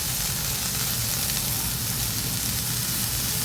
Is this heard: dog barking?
no